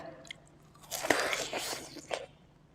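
Crisp, cold, sweet snow lotus root (yacon) crunched in a few sharp bites with chewing between, close and clear against a quiet background.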